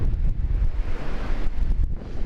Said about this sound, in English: A lot of sound of the waves though.